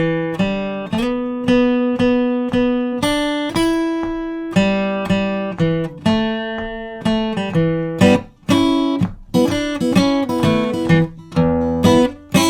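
A guitar picks out the third phrase of a blues tune, a rhythmic sequence of plucked notes that ring and decay between attacks, building to busier, sharper strums near the end, played close with no voices.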